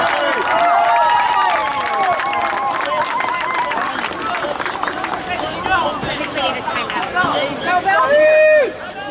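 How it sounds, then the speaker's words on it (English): A crowd cheers and shouts at a Friday night high school football game between Valley Christian and the AW Falcons, a loud, continuous wash of voices with a commentator talking over it and a swell near the end. "The crowd's in sync tonight"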